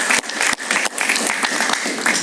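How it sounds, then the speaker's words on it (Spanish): Studio audience applause on a Spanish-language talk show, a dense burst of many hands clapping, fairly loud and continuous for a couple of seconds with no voices over it. "Un aplauso para Alejandro Cardona."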